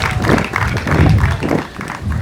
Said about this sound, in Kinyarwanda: Ikomera amashyi.